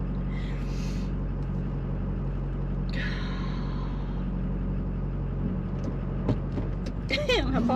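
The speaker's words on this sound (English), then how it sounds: "God, I love the way a diesel sounds." A Chevy diesel pickup truck engine idles with a steady low rumble throughout, fairly close, while someone talks over it in short bursts.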